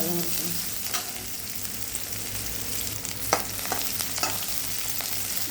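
Onions sauté in a hot pan for masala idli, giving a steady close sizzle broken by occasional clicks and scrapes of a stirring spoon, with no voices.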